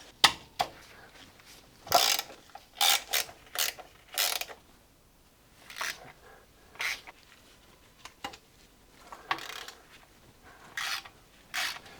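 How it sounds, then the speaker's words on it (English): Wrench working loose the bolts on an angle-iron drive belt bracket of a Volvo 66, short bursts of metallic ratcheting and scraping, close and fairly quiet, separated by pauses. "I need to loosen up all those 4 bolts connecting this angle iron between the 2 units."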